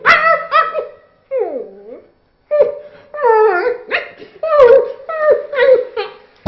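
A man imitates a dog with his voice, producing a run of loud, close barks, yelps and whimpering whines in short bursts separated by brief pauses.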